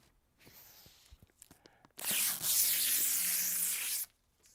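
Protective film is peeled off a Bambu Lab H2S 3D printer: after some quiet small rustles and taps, a loud, steady hissing rip runs for about two seconds, close up, then stops.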